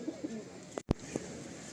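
Pigeons coo softly at a backyard loft of Madrasi flying pigeons, a few short low calls scattered around one sharp close thump, and no one speaks.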